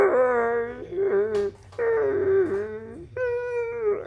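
A person vocally imitates a creature's pained whimpering, like an injured dog hit by a car, during a Star Wars Edge of the Empire tabletop role-play: three close, loud, wavering whining moans separated by short breaths.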